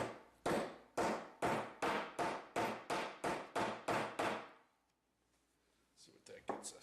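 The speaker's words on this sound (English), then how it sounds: "need a few more taps with this here hammer" Hammer tapping on a part inside a Yamaha DG80-112 guitar amplifier during repair, about eleven sharp, evenly spaced close strikes in quick succession, then quiet with faint handling noise.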